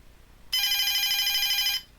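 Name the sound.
telephone bell ringing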